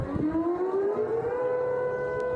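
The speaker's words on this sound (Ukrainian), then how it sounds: "повітряна тривога пролунала лише після влучання" An air raid siren wails over Sevastopol, its steady tone slowly rising in pitch. The sound is loud and sustained and carries outdoors with a distant, open quality. No voices are heard.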